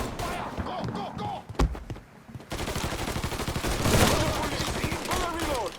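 Rapid bursts of gunfire and explosions from the Mafia III video game, loud and continuous with dense repeated shots, layered under shouted in-game voices.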